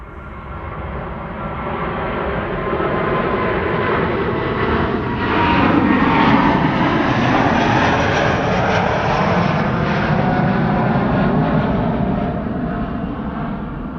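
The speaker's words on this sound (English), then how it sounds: "This is Delta Airlines flight 143 to Seattle, Washington." A Delta Airlines Airbus A330neo jet departs Amsterdam Schiphol for Seattle with a loud, sustained roar that swells to a peak midway and then slowly eases as it climbs away.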